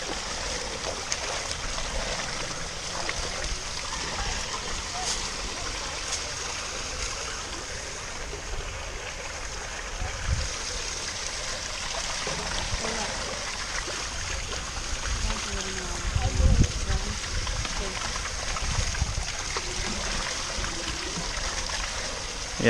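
Overflowing pond water runs freely after sticks and debris are cleared, a soft, continuous trickling wash with occasional low gurgles and bumps, fairly faint and steady throughout.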